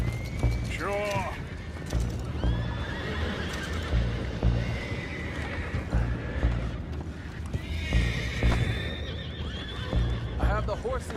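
Horses whinny and neigh repeatedly in Red Dead Redemption 2, with steady clip-clopping hooves underneath, mixed with talking voices throughout.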